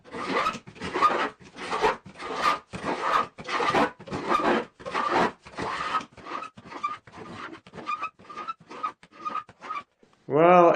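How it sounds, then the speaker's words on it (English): A carbide scraper is drawn across a wood surface in repeated close, loud, raspy strokes, about fifteen in a steady rhythm that quickens toward the end, followed by a brief burst of different sound at the close. "that carbide seems to be much sharper, or at least my other scraper has gotten dull."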